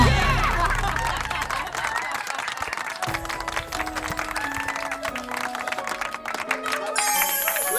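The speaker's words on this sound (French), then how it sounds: "Applaudissons notre premier candidat." A crowd applauds and cheers for the first contestant at a glamorous ball competition, steady dense clapping that starts loud and thins out over several seconds, with music underneath.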